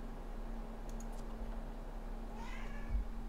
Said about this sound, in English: Kitty, why are you meowing?